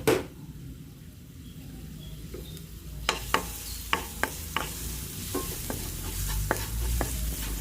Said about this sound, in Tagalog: o teflon na aking lutuan, may mantika na yan at mainit na. Igisa ko muna yung bawang.